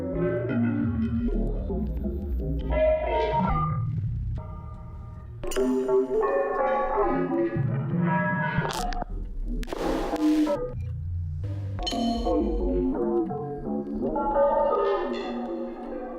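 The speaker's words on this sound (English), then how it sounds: "hey Jax, this one's Death Bell, which is just some other processing stuff" Synthesized sound-design effect called Death Bell, with heavy processing: dark, distorted tonal swells and chordal bursts, loud and continuous with shifting pitches and a brief noisy burst midway.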